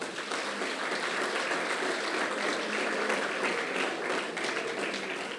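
An audience at an eloquence tournament applauds the candidates, a dense, sustained round of clapping from a large room that holds steady throughout.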